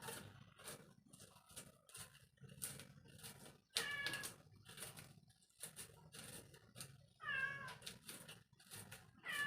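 A cat meows repeatedly at close range, its cries rising and falling in short bursts, with soft household noise between calls.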